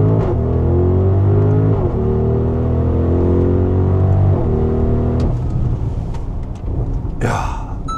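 An Audi RS Q8 accelerates hard, its loud engine note climbing steadily in pitch with a few stepped gear changes, then dropping into a rougher, lower roar near the end.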